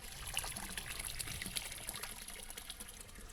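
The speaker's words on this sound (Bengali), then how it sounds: "একটা এরকম বড় তালাব বানিয়ে রেখেছে সব ঝুড়িতে জল ভরছে" Water trickling and pouring into baskets set in a large tank used for soaking areca nuts in a Meghalaya village, a faint continuous dribble and splash with no voices.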